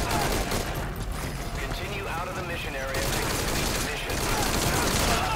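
Gunfire in the stealth-action game Metal Gear Solid V: Ground Zeroes, a dense, continuous rattle of shots and impacts that stays loud for the whole stretch, with a voice heard over it at times.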